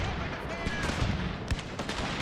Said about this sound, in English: in terms of all the musketry that's going on